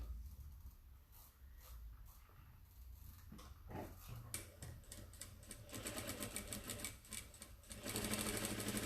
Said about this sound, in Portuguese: vou costurar bem em cima do risco